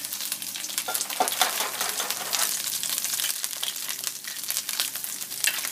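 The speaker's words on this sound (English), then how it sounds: "we're going to beat the eggs" Three large eggs beaten for a tamale omelet, a steady fast rattle of whisking against the bowl running close and continuous, with no talk.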